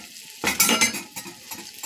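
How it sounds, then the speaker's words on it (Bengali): Spices fry in hot oil in a pan while a utensil stirs them, giving sizzling bursts and scraping strokes that start suddenly after a quiet moment and then fade into softer stirs, with no voices. "মশলা একটু ভাজা ভাজা হয়ে গেছে"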